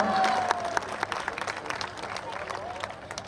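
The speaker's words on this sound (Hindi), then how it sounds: "एक बार जोरदार तालियां के साथ बागो अभिनंदन सम्मान आपा करेंगे।" Audience applause with scattered claps and crowd murmur, fading as voices continue underneath.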